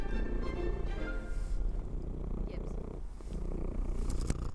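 A pet cat named Parky purrs loudly and steadily right up against a microphone, a close, continuous rumbling drone lasting the whole stretch, with a few small rustling bumps as he moves.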